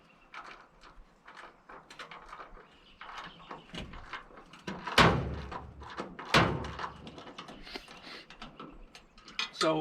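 Ratchet socket wrench on an extension loosening bolts on an old furnace being scrapped, with repeated rapid clicking and scraping metal clanks, a couple of louder knocks midway, and soft speech in the background.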